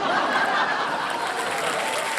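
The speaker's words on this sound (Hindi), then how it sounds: "ताली बजा रहे हैं सिवाय उनकी बहन की" Studio audience applause on a Hindi television quiz show, a dense, steady wash of clapping from a crowd filling the whole stretch at constant loudness, with faint chatter and a little laughter mixed in.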